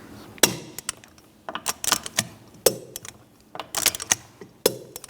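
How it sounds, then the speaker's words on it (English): A torque wrench tightening lug bolts on a 2007-2013 Mini Cooper wheel, sharp metallic ratcheting clicks in short irregular bursts, close and clear, with a few louder clunks and no talking. "Now we're going to torque the lug bolts to 110 foot-pounds in a cross pattern to tighten the wheel down evenly."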